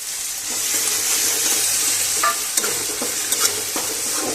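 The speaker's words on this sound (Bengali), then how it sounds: "এবার আমরা টমেটো বাটাটা দিয়ে দেবো।" Onions frying in a pan as tomato paste goes in for a Bengali chana masala, steady loud sizzle with scraping stir strokes and a few sharp clicks of the spoon against the pan.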